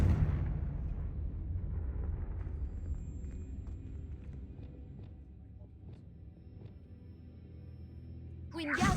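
A Confringo blast spell goes off in a Harry Potter video game, a loud booming rumble at the start that fades slowly into a quiet low-end tail, with a sharp bright burst right at the end.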